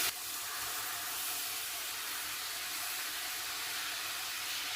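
Water splashed into masala frying in a pan on a low gas flame, giving a loud, steady steam hiss that holds evenly for several seconds with no talking.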